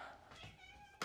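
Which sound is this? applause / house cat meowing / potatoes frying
house cat meowing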